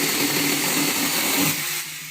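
A battery-operated mini chainsaw whines loudly and steadily as it cuts, holding a constant buzzing drone before dropping off toward the end, with no talk over it.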